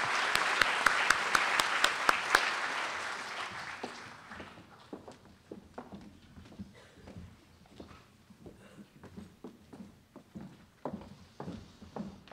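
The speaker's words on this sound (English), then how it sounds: "Let's recognize them with a round of applause as they exit the stage." A convocation audience applauds as academic merit award winners leave the stage, loud dense clapping at first that thins into scattered individual claps and fades, with footsteps mixed in and no talking.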